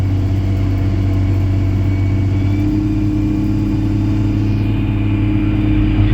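An old earth-moving scraper's engine runs steadily and loudly up close, a dense low rumble that holds throughout with slight rises in revs and no talk over it.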